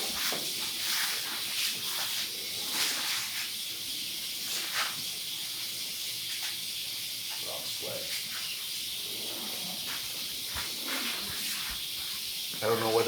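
A king cobra gives a low growl through its modified trachea, a breathy, sustained hiss-like rasp repeating in drawn-out pulses at close range.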